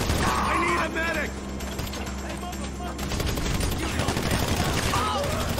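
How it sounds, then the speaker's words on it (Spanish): Many enemies firing at once in a GTA Online mission, heard as a dense, rapid rattle of gunfire that runs throughout under a voice. "Pero todos me disparan al mismo tiempo"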